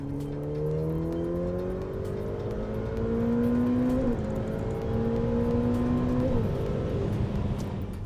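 Ferrari F8 Tributo V8 engine pulls hard under full throttle, its pitch climbing steadily through several gear shifts, a continuous rising roar heard from inside the car.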